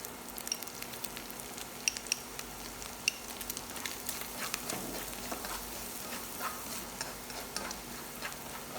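Minced pork and garlic stir-frying in a pan, a steady low sizzle with scattered ticks and light scrapes from stirring, quiet and close with no voices.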